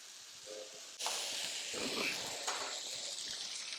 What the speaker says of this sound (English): Saute all your vegetables nicely